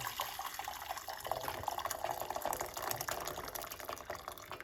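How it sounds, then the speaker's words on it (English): Hot water pours steadily into a pot for several seconds, a continuous splashing fill with some dripping and clinking. "we're going to put 1 cup of hot water"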